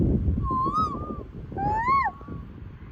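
A person imitates the call of a koel, giving two rising, whistled calls with a clear tonal pitch. The imitation sounds close and moderately loud against a steady outdoor background.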